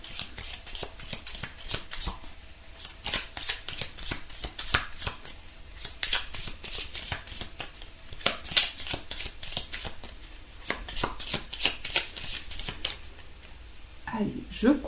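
Tarot cards being shuffled by hand, a steady run of crisp riffling and slapping card sounds repeating in quick bursts, close and moderately quiet, with a voice speaking softly at times.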